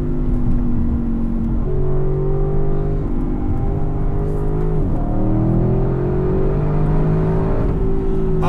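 A 2020 Audi RS6 Avant's engine revs hard on the road, a loud continuous drone climbing and falling in pitch as the car accelerates and shifts, heard from inside with no talking.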